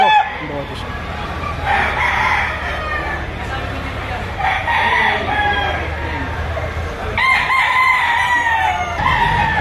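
Roosters crowing and hens clucking at a busy chicken market in Lipa, Batangas, with repeated crows rising over a steady crowd din and people talking throughout.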